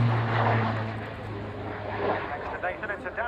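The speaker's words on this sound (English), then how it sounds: "Tucano, clear to land, runway 27" A Tucano propeller aircraft approaches to land at an air show, a steady droning engine hum with a rough propeller tone, heard under a voice on a public address speaker.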